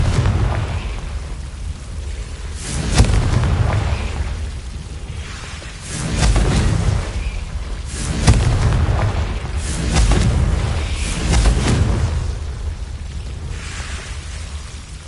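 Confringo fire spell blasts in the Hogwarts Legacy video game, a series of deep booming explosions spaced a couple of seconds apart over a constant rumbling background.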